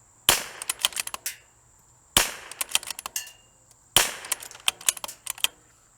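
Three sharp shots from a CZ 457 rifle with a Vision Gen 2 chassis, fired at targets, each a loud crack followed by quick ringing target hits, spaced about two seconds apart with no talk.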